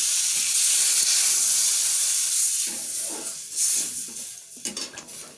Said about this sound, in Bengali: এবার এখানে আমি জল দিয়ে দেবো।